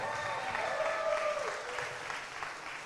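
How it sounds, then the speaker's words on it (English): At a Hispanic celebration held at Orlando International Airport, an audience gives a round of applause, a soft steady patter of clapping beneath a voice and ambient crowd noise. "So let's give her a big round of applause."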